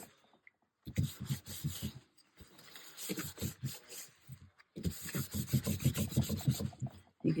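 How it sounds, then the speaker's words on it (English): A lightly dampened paper towel rubs sanding dust off a sanded paper journal page in quick, rhythmic scrubbing strokes. It comes in close, soft bursts separated by brief pauses. "I usually take a very lightly sprayed paper towel and pick some of that sanding dust off."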